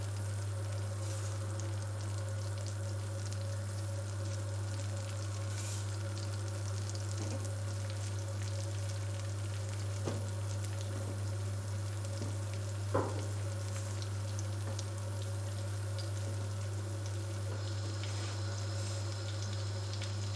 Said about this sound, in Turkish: şimdi bu yağın içerisine rendelediğim hamurları atacağım